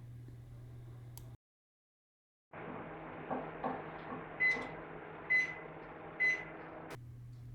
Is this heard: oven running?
yes